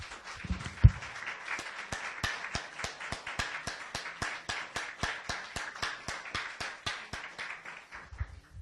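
A church congregation claps in an even, steady rhythm, roughly three claps a second, sustained for several seconds at moderate loudness before tapering off.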